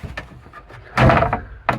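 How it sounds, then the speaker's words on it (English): Wooden galley door being pushed shut, a close solid thunk followed by a shorter knock, with faint handling sounds before it. "it's made that door a lot more secure."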